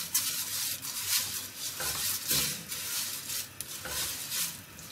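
Vermicelli fries in fat in a pot with a soft, continuous crackling sizzle and scraping stir strokes against the metal, close and fairly quiet, with no one speaking.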